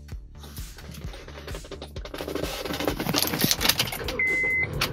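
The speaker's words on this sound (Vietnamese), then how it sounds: "Trước tiên thì tôi cứ nổ máy lên cho quý vị và các bạn cùng xem cái đã." A 2007 Honda Civic 1.8 with manual transmission is started. Keys jingle, the starter cranks in rapid repeated pulses, and the engine catches and settles into a steady, smooth idle, close up and with no talking.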